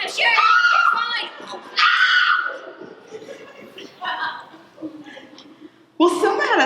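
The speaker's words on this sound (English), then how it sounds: "The screams are coming from the billiard room." A woman screams during a staged Clue murder-mystery play, loud shrieks in several bursts with pauses between them, cutting across the room.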